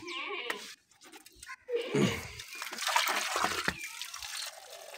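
Water is poured into goat water tanks outdoors, with uneven bursts of splashing and gurgling between short quiet gaps, near and fairly loud, and a goat may bleat once.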